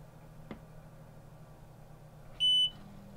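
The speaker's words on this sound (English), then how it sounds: "The device will make a long beep sound and come on to a scan mode for Wi-Fi" A LetPot hydroponic growing device gives one clear, steady electronic beep of about a quarter second on power-up, preceded by a faint click and otherwise surrounded by a low room hum.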